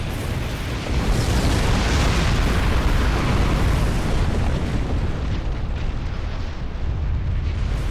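A ship blows apart in a naval combat video game, a loud, sustained roaring explosion that surges after a brief lead-in and rumbles on steadily for several seconds, dense and booming throughout.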